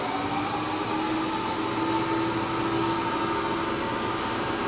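A DC series motor started through a 2-point starter runs at a constant speed in a lab, giving a steady whirring hum with a faint tonal whine and no pauses.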